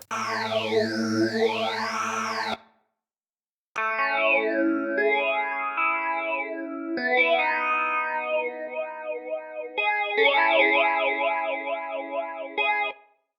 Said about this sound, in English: We can add a bit of reverb.